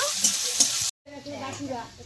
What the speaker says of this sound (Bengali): পেঁয়াজটা একটুখানি ভেজে নেব।